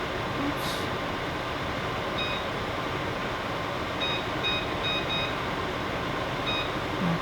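A kitchen timer gives short high beeps while being set, a few quick isolated chirps followed by a closer cluster, heard over a steady background hum of a home kitchen where chicken is simmering.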